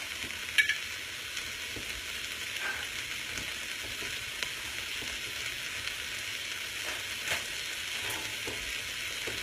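Minced garlic frying with vegetables in a pan for a shrimp stir-fry gives a steady, moderate sizzle with a few faint scrapes and clinks of stirring. No one speaks.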